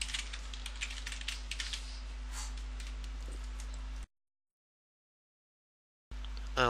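A password is typed on a computer keyboard during Windows Server 2008 R2 Active Directory user setup: a quick, close run of soft key clicks for several seconds, then a gap of silence and a brief burst of noise.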